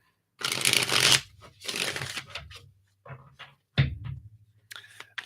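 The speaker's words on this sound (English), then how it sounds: "Just gonna shuffle these up real quick here." A deck of tarot cards is shuffled at close range in a few quick riffling bursts separated by short pauses, ending with softer taps and handling noises.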